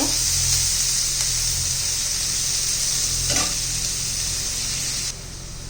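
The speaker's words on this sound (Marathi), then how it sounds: "छान असं परतून घ्यायचा आहे कांदा आपल्याला, अजिबात कच्चा ठेवायचा नाही." Onions sauté in oil in a pan for egg tawa masala, a steady, close hiss and crackle that holds evenly throughout, with a faint stir midway and a slight drop in level near the end.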